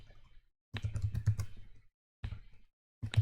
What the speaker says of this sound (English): start typing exactly what's just written in there